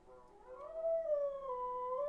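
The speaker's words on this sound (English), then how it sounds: "The dog is so loud!" A dog howls loudly and close, one long wavering, rising and falling cry with clear tonal harmonics that swells and holds, with no talking over it.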